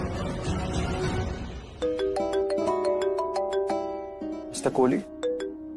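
A phone gives a melodic ringtone of bright repeating tones that rise in pitch, following some background talk, and a voice then answers over the end of the ring.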